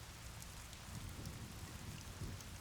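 Steady rain falls in a Devil May Cry 3 game scene, a dense, even hiss with a low rumbling layer beneath, continuous and fairly close throughout with no voices.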